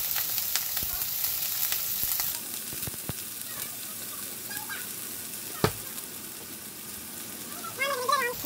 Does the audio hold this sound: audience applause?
no